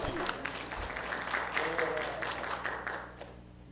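Applause at a city council meeting for a council member, a short burst of clapping from a small crowd in a meeting room, steady and moderately loud before fading.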